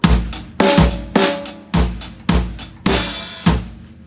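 A drum kit plays a steady groove in 11/4, kick and snare hitting in a regular pulse with cymbal wash, close and loud, ending on a longer crash.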